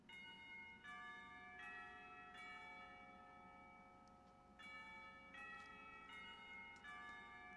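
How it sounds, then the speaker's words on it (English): Clock tower bells in the visual novel Katawa Shoujo chime in a slow series of bright, ringing strikes, each tone lingering and overlapping the next, heard alone over a faint steady hum. "tower bells ring, signaling the end of the period"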